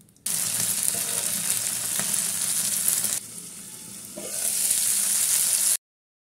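Pieces of squid fry in hot oil, a loud, dense, continuous sizzle close by that dips briefly and swells again before cutting off.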